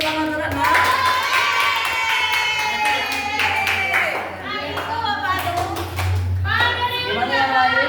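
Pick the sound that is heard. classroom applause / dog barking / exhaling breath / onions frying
classroom applause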